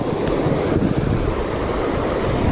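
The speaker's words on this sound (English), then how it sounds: "made it down to waterfall numero dos" Waterfall at a river spillway where white bass are fished, a steady, loud broadband roar of rushing water close by, constant and unbroken with no voices.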